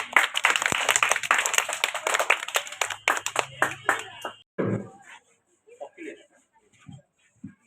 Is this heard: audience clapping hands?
yes